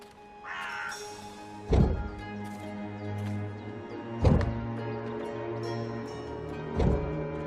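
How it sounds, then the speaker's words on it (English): A crow-like bird caws in the video game Dreamfall Chapters over a sustained ambient music bed. Three loud, harsh calls come at regular intervals. "Go look for that goddamn bird over there."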